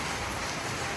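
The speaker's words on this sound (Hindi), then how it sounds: "इतनी तगड़ी बारिश पड़ रही है" Heavy rain pours down in a dense, steady hiss of broadband noise, constant and close, with no talking.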